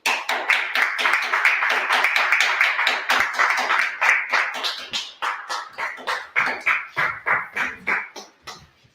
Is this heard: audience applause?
yes